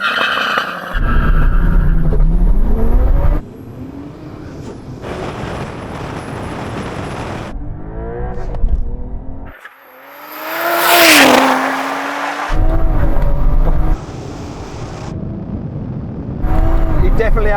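A 700-horsepower tuned Supra and a Porsche 911 Carrera T launching in a drag race, with loud engines revving and roaring off the line, a surge of accelerating engine sweeps and shifting roars, and people talking in between.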